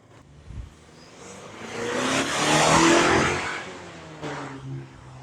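A midsize pickup truck out on the road, its engine swelling as it accelerates and then easing off, heard from inside the cab as a steady rising hum with no talking.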